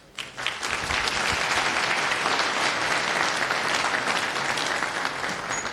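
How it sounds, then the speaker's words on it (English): A conference audience claps for a speaker at a tech talk, dense steady applause that rises quickly and holds at full strength throughout. "So round of applause for him."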